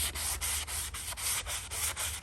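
Light hand sanding of weathered deck wood with 150 and 60 grit paper, a steady series of close, rhythmic broadband rasping strokes about every quarter second with no voices.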